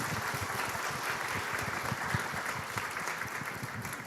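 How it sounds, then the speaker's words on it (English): Applause from the audience at a high-level conference of middle income countries rewards the panel speakers, a steady wash of many hands clapping, fairly soft and distant. "a big round of applause for our speakers."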